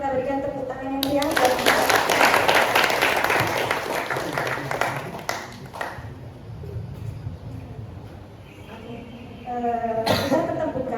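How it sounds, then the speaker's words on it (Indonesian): Audience applause at a digital marketing talk for university students. Loud, dense clapping builds for several seconds, then thins into scattered claps and coughs, with speech before and after. "terima kasih banyak Mas Novel, kita berikan tepuk tangan yang meriah."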